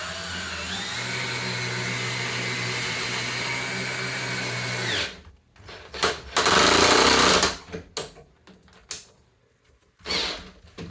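A power drill countersinks and drives screws into a DIY pantry shelf: a steady whirring run for about five seconds, then several short bursts of drilling separated by pauses, close and loud.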